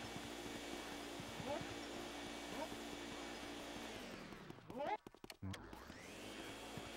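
A vacuum cleaner in a Halloween video game runs with a steady electric whine and hum, then its pitch dips and sputters briefly before resuming its drone.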